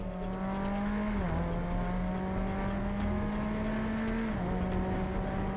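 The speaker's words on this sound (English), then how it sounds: "So it is flat out through the sweep that is turn 3, working right the way through the 5-speed sequential box." A Formula 4 race car with a 5-speed sequential gearbox driving flat out at Sepang, its engine a steady high-pitched onboard whine that dips briefly twice at gear changes, loud and continuous with no talk.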